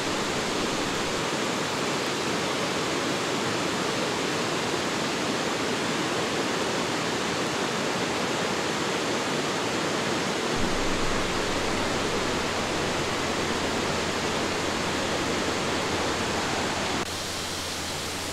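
La Fortuna waterfall in Costa Rica roars as a steady, broad wash of falling water, loud and unbroken throughout with no voices.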